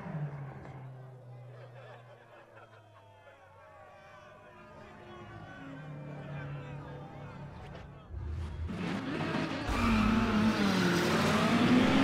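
A Porsche engine revs and races in the video game Need for Speed ProStreet, swelling louder toward the end with tire noise, while someone talks over it throughout.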